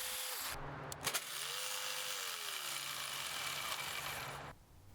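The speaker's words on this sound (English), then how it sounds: "I used my jigsaw to cut everything out." A jigsaw fitted with a 30 TPI blade cutting sheet metal for a portable blacksmith's forge: a steady, buzzing motor whine that starts, pauses briefly with a couple of clicks, then runs for several seconds before stopping.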